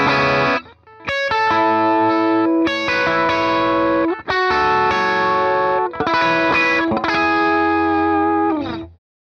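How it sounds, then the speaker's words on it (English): Electric guitar on a worship pedalboard with HX Effects and ToneX, playing a clean tone through compressor and light overdrive pedals, with sustained ringing chords and notes, loud and continuous alone for about nine seconds. "keep my compressor on, and I always have some sorts of overdrive on. So this is basically my main clean sound,"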